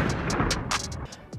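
Ammunition exploding in drone war footage from Ukraine, heard as several sharp booms and bursts in quick succession over a rough, rumbling background, fairly close and loud throughout.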